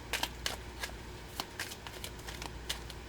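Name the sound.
shuffling a deck of tarot cards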